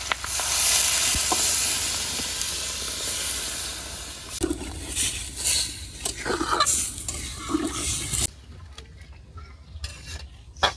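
Loud hissing sizzle as water hits frying beans in a pan, then it settles into quieter bubbling with scraping and stirring sounds as a simple village bean curry cooks.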